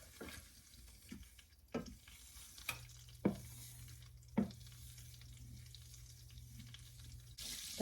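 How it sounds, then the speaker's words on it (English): Foaming mixture stirred constantly in a pan, a faint low sizzle broken by a few distinct spoon taps and scrapes against the pan, with a brief steady hum in the middle. "I just sit here and kind of stir constantly."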